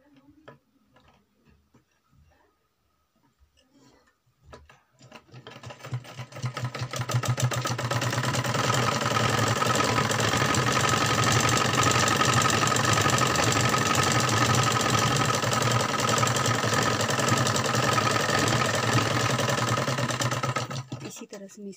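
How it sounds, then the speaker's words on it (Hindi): An electric sewing machine runs steadily for about fifteen seconds, stitching the seam of palazzo pants, a loud continuous rapid ticking whir that starts after a quiet few seconds and stops abruptly. "पहले सबसे पहले आसन को मैं स्टिच करूंगी"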